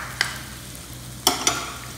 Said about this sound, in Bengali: দিয়ে আলুর সঙ্গে 1 মিনিট মতো আমি নেড়ে নেবো